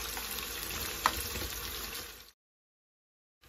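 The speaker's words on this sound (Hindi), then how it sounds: "इसको प्याज शामिल कर देते हैं और प्याज को मैं लाइट गोल्डन ब्राउन कर लेती हूँ" Onions frying in a cumin tempering give a steady close hiss and sizzle with one sharp clink of a utensil, then the sound cuts to silence.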